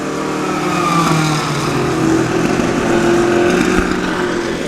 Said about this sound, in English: These F5000 cars sound pretty crazy. They're a rolling start as well, so a lot of noise.